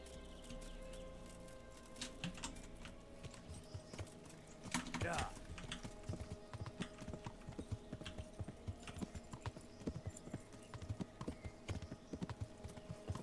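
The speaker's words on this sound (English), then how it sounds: "I'm gonna hop on my horse and do some riding around listening for it." Horse hooves clip-clop steadily while riding in Kingdom Come: Deliverance, a continuous run of close, rhythmic thuds with faint birdsong behind them.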